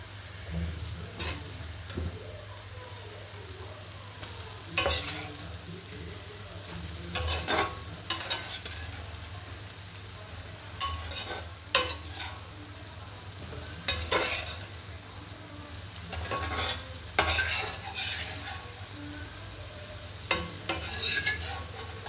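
Prawns with gongura sizzle softly in a pan while a spatula scrapes and clatters against the metal in irregular bursts every second or two, close up and without talk.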